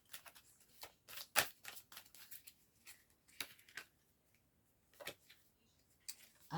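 Oracle cards shuffled for a card reading, a string of soft papery riffles and quick flicks coming in bursts with short pauses, close and fairly quiet.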